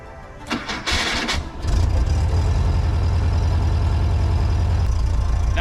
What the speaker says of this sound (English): first step is getting the engine running.